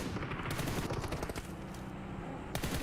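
Rapid bursts of gunfire in a PUBG Mobile video game tournament, dense overlapping shots crackling loudly throughout the short stretch, with no talk over them.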